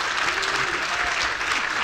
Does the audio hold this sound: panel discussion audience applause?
yes